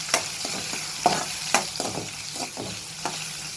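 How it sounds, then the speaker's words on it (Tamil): Onion frying with mustard seeds, dried red chillies and curry leaves for wheat rava upma: a close, steady sizzle broken by several distinct stirring scrapes, no voices. "கருவேப்பிலை பொடியாக கட் பண்ணி வச்ச ஒரு வெங்காயம் லைட்டாக ஃப்ரை பண்ணிக்கலாம்"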